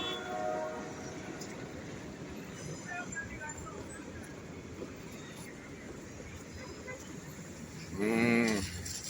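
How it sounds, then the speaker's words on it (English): A freight train hauling caustic soda crosses a road bridge in rainy Jamaica, a soft continuous rolling rumble heard from a distance, capped near the end by a loud, swelling horn blast. "Look at the train passing, my fans."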